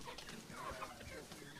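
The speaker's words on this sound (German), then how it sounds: "Truthähne und Hühner fürs Fleisch" Chickens and turkeys kept for meat cluck softly in a henhouse, a steady faint murmur of several birds without a clear break.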